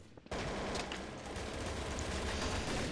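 Sniper rifle gunfire in Counter Strike Source starts abruptly after a brief quiet moment, then becomes dense, loud, rapid shooting that continues without a break to the end.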